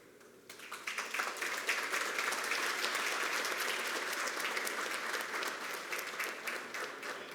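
A ceremonial swearing-in audience bursts into applause for honorees receiving awards, steady dense clapping from many hands rising after a quiet start and holding through to the end.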